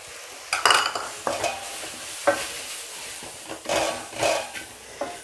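Stirring turmeric and coriander powder into a murungaikkai (drumstick) masala in a pan: a utensil scrapes and clacks against the pan in uneven strokes over a soft sizzle, close and without talking.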